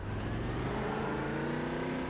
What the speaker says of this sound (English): So this is the V8 supercars.